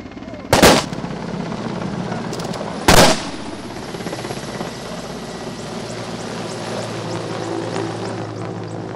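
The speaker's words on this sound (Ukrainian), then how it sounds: "Військові віддали шану побратимам, кружляючи на такому ж гелікоптері." A Mi-8 military helicopter circles overhead at a memorial for a fallen crew in Donetsk region, its rotor drone a steady distant rumble broken by two short, sharp bursts that sound like gunfire or a salute.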